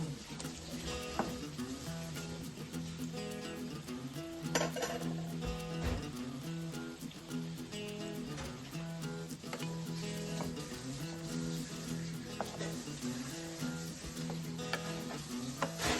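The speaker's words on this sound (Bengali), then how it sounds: "এবার উল্টে দিয়ে অপর পিঠটাকেও খুব ভালো করে ভেজে নেব।" Chicken cutlets sizzle steadily as they fry in oil in a pan. Occasional clinks of a utensil against the pan sound as the cutlets are turned.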